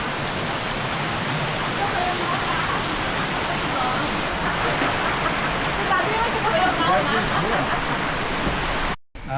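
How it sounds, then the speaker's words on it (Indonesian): Heavy rain pours down steadily in the hills near a tea plantation, a dense, loud hiss of drops on surfaces continuing unbroken for several seconds before a brief cut near the end. "Kita istirahat dulu sambil menunggu hujan reda."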